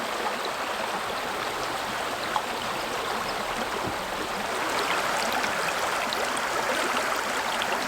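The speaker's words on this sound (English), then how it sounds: "There's something about the sound of the flowing water and the raindrops around." Steady broadband rush of a creek flowing through woodland in Southern California during all-day rain, with faint scattered drops pattering around; continuous and even, no voices.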